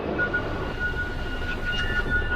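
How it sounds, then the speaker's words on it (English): Continuous rumble of a train arriving and slowing down close by, a Madrid Aeropuerto T4 service, with steady rolling noise and a faint high tone running through, no voices. "here comes a train"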